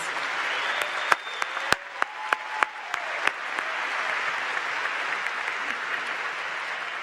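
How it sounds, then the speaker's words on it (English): Sustained audience applause at a university fall commencement ceremony, honoring a student early music ensemble; dense clapping fills the hall with a few sharp, louder claps standing out early on, then a steady wash of applause continues. "How about one more round of applause for our talented students?"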